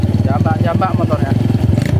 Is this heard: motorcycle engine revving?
yes